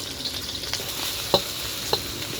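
Garlic fries in oil in a pan, a steady hiss with a few sharp crackles and light stirring scrapes, close by and without any talk.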